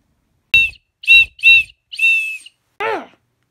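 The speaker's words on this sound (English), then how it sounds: "Never blew into a whistle before." Five sharp whistle blasts ring out, close and shrill: a short toot, two quick ones, a longer blow, then a final warbling trill, separated by silence.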